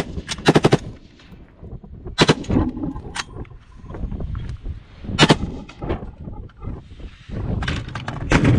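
CETME 5.56 rifle fired at a range, loud sharp shots in quick bursts and singles, close and clear, with echoes between them.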